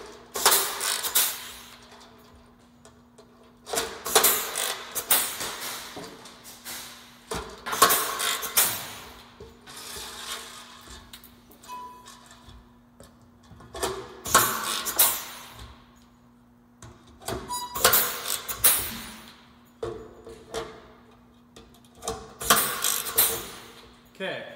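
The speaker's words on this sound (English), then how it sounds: "So this step, we're going to pop rivet all of these on." Pop rivets being set one after another into an air cleaner base sheet, giving repeated bursts of sharp metallic clicks and clacks at close range, with short quiet gaps between them.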